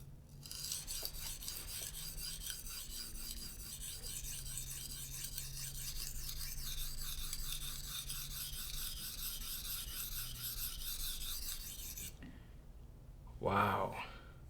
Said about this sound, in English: I'm gonna do the push and pull again, just to get a feel for this stone.